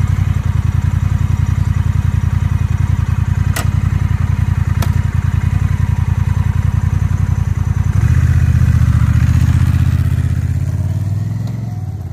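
2021 Honda Rebel 1100 motorcycle fitted with a new windscreen, its engine thumping in a steady loud pulse, then changing note as it rides off and fades slightly.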